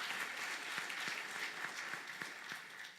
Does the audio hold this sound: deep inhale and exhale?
no